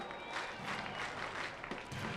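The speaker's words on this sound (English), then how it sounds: "now the crowd rises to its feet" A crowd at a Tulsa vs Springfield baseball game applauds, steady clapping and cheering spread across the stands at a moderate level for a couple of seconds.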